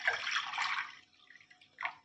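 Water, about a litre, poured from a large vessel into a wok on a gas stove, a short splashing gush that tapers off, then a brief final splash, close by with no talk.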